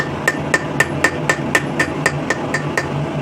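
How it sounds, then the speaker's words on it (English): Sharp, evenly spaced hammer blows ring out on steel, about eleven strikes in three seconds. The corners of a rivet header tool made from scrap steel are forged down at the edge of an anvil. "we're just going to come kind of to the edge of the anvil here and forge each one of these corners back down"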